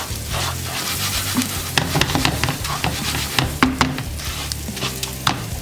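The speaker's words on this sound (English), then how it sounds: "give that a toss. And what we're looking for here is just to give that a little bit of a toast" Arborio rice toasting in a pan with chorizo, a soft steady sizzle broken by repeated sharp scraping and clattering as a spoon stirs and tosses the grains, close up with no speech.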